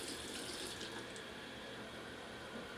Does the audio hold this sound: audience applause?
no